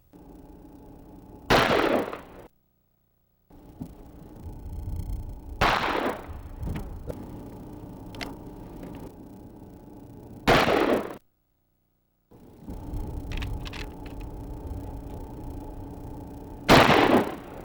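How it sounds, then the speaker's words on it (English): Gunshots from a .357 Magnum, Colt 45 and .44 Magnum revolvers and a .30-30 rifle fired at a compressed earth block, four loud, sharp single reports spaced several seconds apart, each followed by quieter ambient noise. "subjected it to gunfire of several different calibers"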